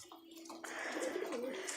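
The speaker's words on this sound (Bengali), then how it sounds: "আর দেখেন আমাদের ঘরের মধ্যে এখন পায়রা আছে সব।" Pigeons, including fantails, coo softly inside a room at home in the evening, with a low, throaty cooing call rising and fading over a quiet background.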